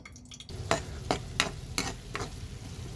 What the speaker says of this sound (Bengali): প্রথমে ইনশাল্লাহ কাঁচামরিচগুলো ভাজবো, কষাবো